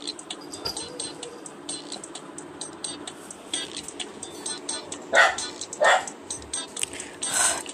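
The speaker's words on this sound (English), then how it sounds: "Dog." Cartoon dog barking in the Papa's Pastaria to Go cooking game, several short sharp yips and barks over a busy game soundtrack, moderately loud, with some talking underneath.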